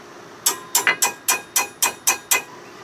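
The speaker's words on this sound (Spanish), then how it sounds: "Cuando ya no pueda más, pues le damos un toque con el martillo siempre." A hammer tapping a car brake part into place during a brake squeal repair, eight sharp metallic knocks in a fairly steady rhythm, close and loud, with no talk.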